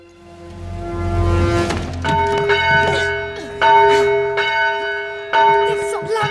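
A church bell rung on Christmas Eve, a low sustained tone giving way to loud ringing strikes about once a second, each leaving a long bright decay, alone without speech.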